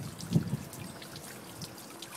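Water pumped through a small home-brewing beer pump fill line during a ten-foot head test, a quiet steady trickle and pour that runs continuously throughout, with a slightly louder splash near the start.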